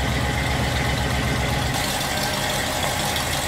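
A truck engine runs at a steady, rough idle close by as the vehicle is pulled inside from storage, a continuous low rumble with no talk.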